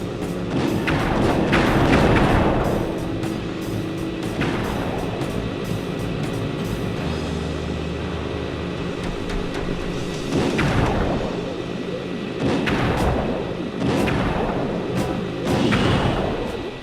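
A turret firing in Sly 2: Band of Thieves, heavy booming thuds landing in clusters, around 1, 4, 10, 13 and 16 seconds, over a constant low rumbling game backdrop, with no talk.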